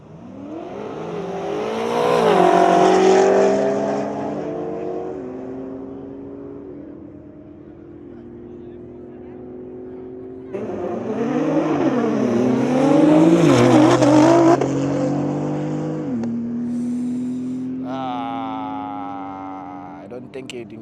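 Cars, including an MK5 Supra and an all-wheel-drive rival, drag racing on a private track: two long, loud, close engine runs revving up through gears, with a shifting pitch and a tire squeal, and a person talking in between.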